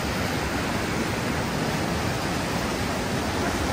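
A mountain river on the trail to Shey-Phoksundo in Dolpa, Nepal, rushes in a constant broadband roar, loud and unbroken, like nearby whitewater with no talk.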